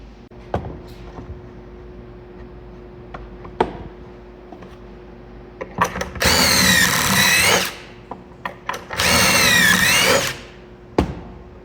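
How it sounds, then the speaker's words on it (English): A power drill bores pocket holes in wood for a DIY outdoor sofa: two loud bursts of whirring drilling, each lasting over a second, separated by quieter clicks and handling knocks. "Once you get everything cut, you can start putting in your pocket holes."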